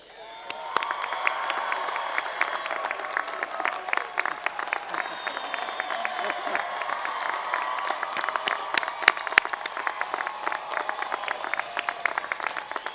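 A crowd at a Chico State university commencement ceremony applauds in a sustained, dense round of clapping. The applause is steady and moderately loud throughout, with some sharper individual claps standing out.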